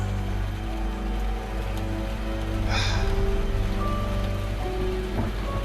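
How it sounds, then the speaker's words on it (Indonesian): Heavy rain as a radio drama sound effect, a steady dense hiss of downpour that swells briefly in the middle and continues under a faint low hum. "Yang kulihat dari teras itu hanyalah derasnya hujan."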